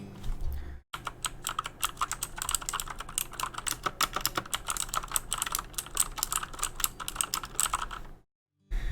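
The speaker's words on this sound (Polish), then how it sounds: "posłuchajcie klawiszy które są tutaj" Mechanical keyboard with blue switches clatters in a fast, steady stream of crisp clicks, close and alone, with a brief pause near the start and end.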